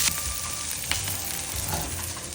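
Mustard seeds and onions fry in a little oil, giving a steady close sizzle with light crackling pops and an occasional stir, alone without speech.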